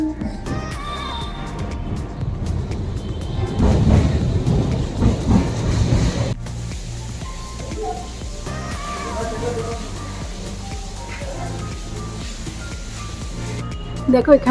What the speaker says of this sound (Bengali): দিয়ে ট্রেন যাচ্ছে কাছেই হচ্ছে ট্রেন লাইন